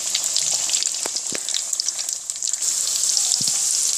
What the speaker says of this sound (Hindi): ये देखें, एग फिंगर्स हमारे फ्राई हो रहे हैं